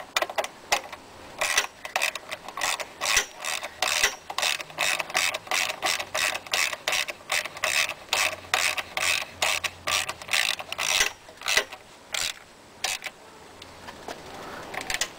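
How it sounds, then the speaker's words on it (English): A 1/4 inch ratchet with a 5/16 inch socket clicks in quick repeated bursts while tightening a fastener during a rear tire replacement on a Honda Elite 80 CH80 scooter, close and distinct. "And I'll tighten it up with a 5/16 inch socket and a 1/4 inch ratchet."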